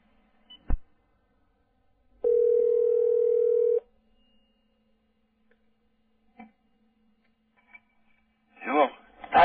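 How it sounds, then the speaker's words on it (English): A telephone from a prank call plays a short sharp click, then a steady dial tone for about a second and a half, followed by faint clicks and a burst of talking at the end. "Hang up first before you dial again"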